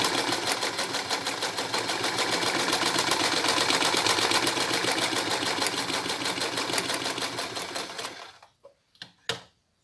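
A sewing machine runs steadily while stitching a decorative seam along a fabric marking, a fast, even mechanical rattle that stops near the end, followed by a few light clicks and handling sounds.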